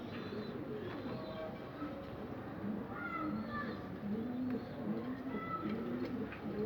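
Young pigeon squabs in a loft give soft, low cooing and murmuring calls, several overlapping burrs against a faint background rumble.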